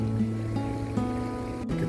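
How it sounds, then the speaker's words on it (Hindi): At a resort pool in Goa, water pours out at the bottom of a water slide, making a steady, continuous gush and splash that sounds close and moderately loud, with no talking. "यहाँ से स्लाइड का पानी आता है"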